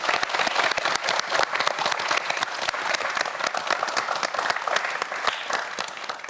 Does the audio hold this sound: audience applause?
yes